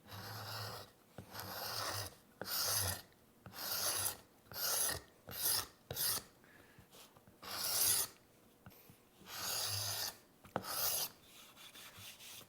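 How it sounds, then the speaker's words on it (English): Dried wood glue scraped off a wooden seam with a modified paint scraper, heard as a series of about a dozen close, raspy strokes in uneven rhythm with short pauses between them. "Really does a great job of taking that glue off of there, get a little bit off the back here."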